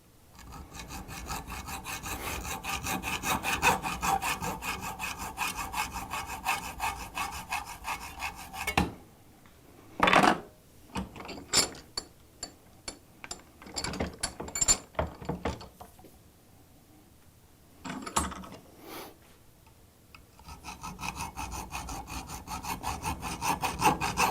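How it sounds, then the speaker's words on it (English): Hacksaw or tubing cutter cutting off an old air conditioning hose fitting, close rhythmic rasping strokes that run steadily, break into scattered scrapes and clicks, then resume. "I'm going to cut off the old fitting"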